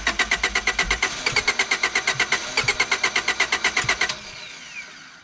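A hard-starting car engine cranks with a rapid, even rhythm of about two dozen loud, close strokes lasting around four seconds, then stops without catching and leaves only a faint fading whir.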